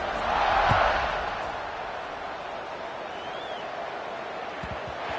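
A large stadium crowd in a college football video game roars in a broad wash of noise, swelling loudly at first and then settling into a steady, distant rumble.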